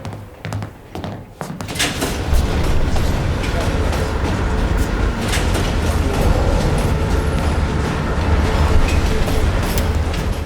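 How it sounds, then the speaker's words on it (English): A moving train in Call of Duty Black Ops Cold War rumbles and rattles steadily with clanks and thumps, loud and close, after a few seconds of quieter sound at the start. "As soon as the train slows down, you and I'll jump off."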